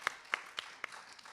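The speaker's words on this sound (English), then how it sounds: "Everybody clap for Khyati" Four faint, evenly spaced hand claps from the audience at a spiritual talk, brief and quiet in an otherwise hushed room.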